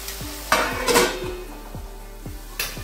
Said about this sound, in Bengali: এবার একটা ঢাকনার সাহায্যে ঢেকে দেব।